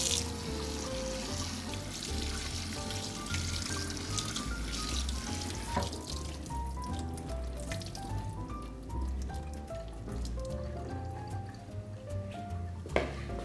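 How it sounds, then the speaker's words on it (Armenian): Grated potatoes are rinsed in a strainer under running tap water for an Armenian kadaif-style dish, giving a steady splashing, dripping wash of water that continues throughout at moderate level, with a sharp knock near the end. "Եվ պահում ենք ջրի տակ։"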